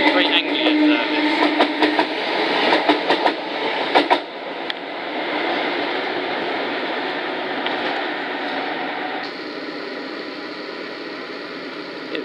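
A Greater Anglia passenger train departing, a steady broadband rumble and hiss of the train moving that holds throughout, with a few sharp clicks and knocks early on.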